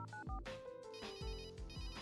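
In the adventure game Runaway: A Road Adventure, a phone rings through an electronic ringtone melody with repeated electronic tones and low thumps, quiet and steady with no talk.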